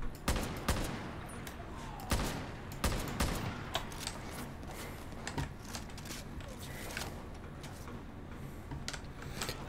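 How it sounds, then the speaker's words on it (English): Gunfire from the video game Far Cry New Dawn crackles in sharp, scattered shots and short volleys, close and fairly loud, with sporadic reports continuing throughout. "I'm getting shot from all directions."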